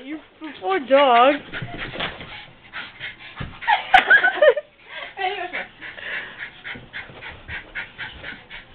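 A distressed dog whimpers and pants nearby in short high whines, heard between and under agitated speech from people close by.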